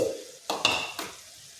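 A spoon stirs a cowpea vegetable stir-fry with freshly ground paste in a pan, making a short, close scraping burst of about half a second with a soft sizzle beneath and a faint clink, then quieter cooking.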